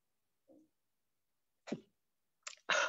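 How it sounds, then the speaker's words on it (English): A single sharp sneeze bursts out after a faint breath and short intake, close and fairly quiet, with no talking around it. "you have witnessed my first on air sneeze"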